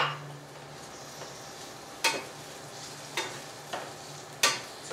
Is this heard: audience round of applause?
no